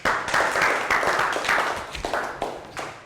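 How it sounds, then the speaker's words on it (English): A classroom of young students breaks into a round of applause, dense clapping in several bursts that swell and fade over a few seconds, fairly close and lively. "Okay, so round of applause"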